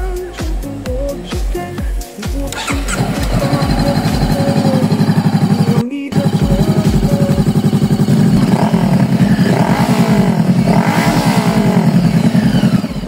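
A 2019 Honda CBR500R motorcycle engine with an aftermarket exhaust revs repeatedly with a deep, raspy note, rising and falling, briefly cutting out once before roaring back up.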